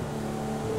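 A boat engine in a video game gives off a steady, rough droning hum that holds evenly through a brief moment, with no talking.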